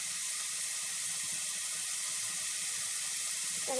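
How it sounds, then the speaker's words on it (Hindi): Tea boils in a pan on a home kitchen stove, giving a steady, close, continuous hissing bubble that holds nearly unchanged throughout, with no talking. "इधर मेरी चाय भी उबल रही है।"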